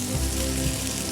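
Mushrooms, squid and onion sautéing in a pan produce a brief, even hiss of frying, close and steady without breaks.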